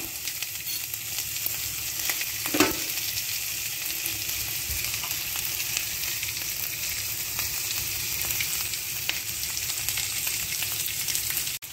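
Mustard seeds, cumin, cinnamon, dried chili, onion and curry leaves sauté in ghee in a kadai, giving a steady close sizzle with one sharper stir near the start and no talking.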